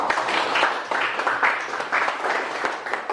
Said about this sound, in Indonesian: Beri aplaus dulu untuk kelompok auditori